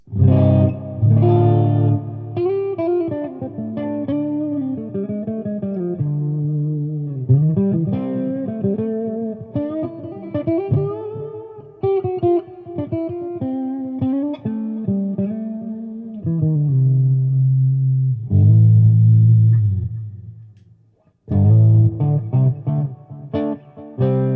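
Clean electric guitar, a 2020 Kramer Nightswan on the middle pickup position, playing a melodic run of single notes and chords, bright with light effects, with a brief pause before it resumes.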